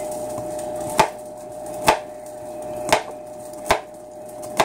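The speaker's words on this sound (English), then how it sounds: "And garlic's fun to cut up because it always cuts right." A knife chops garlic on a cutting board beside a hot stove, five evenly spaced crisp knocks about one second apart under a faint steady hum.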